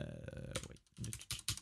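Fingers type a quick burst of keystrokes on a computer keyboard, close and clicky, in a short uneven patter with brief pauses and no speech.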